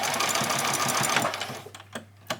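A sewing machine runs a back stitch on fabric fairy wings, a steady continuous mechanical whir that carries for about a second and a half, then stops, leaving a few faint handling clicks.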